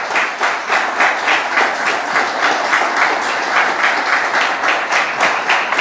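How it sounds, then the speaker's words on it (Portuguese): Church congregation giving strong applause at a sermon, a loud, sustained and dense wash of clapping hands with rhythmic pulses running throughout, close and continuous. "Você pode dar uma salva de palmas para Jesus?"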